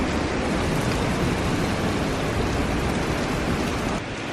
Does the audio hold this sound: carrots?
no